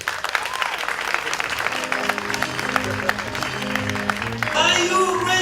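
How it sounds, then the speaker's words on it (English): An audience at a charity gala applauds with sustained, dense clapping, while a voice speaks over it and music swells near the end. "I would love to hear all the applause that you can."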